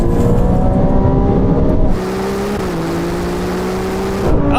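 Sports cars in a third-gear roll race from 50, a loud engine roar rising in pitch, then dropping to a steadier higher drone after a gear change, close and alone.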